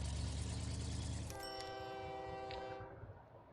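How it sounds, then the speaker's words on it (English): A steel train in a train video game pulls in for a pickup, with a loud rumbling roll that fades as a sustained horn blast rises and then cuts off, and no talking. "And here comes our steel train here for a pickup."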